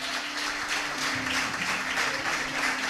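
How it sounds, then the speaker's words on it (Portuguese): A church congregation in a service applauds for several seconds, a dense, continuous wash of clapping from many hands with a faint sustained tone beneath it. "Dá uma salva de palmas bem forte para Jesus."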